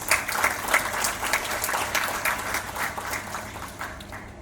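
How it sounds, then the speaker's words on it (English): A crowd applauds steadily at a Green Building Week event as an architect is welcomed to the stage, dense clapping filling the room without pause, then gradually thinning toward the end. "please welcome Architect Hiten Sethi to the stage with a huge round of applause."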